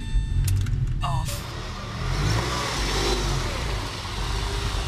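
Car in a street race, revving hard and peeling out, a loud mid-pitched engine roar with a brief sharp squeal near the start before it settles into a sustained rumble.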